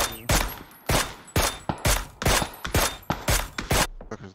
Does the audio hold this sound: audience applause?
no